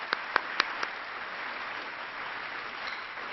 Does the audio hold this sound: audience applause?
yes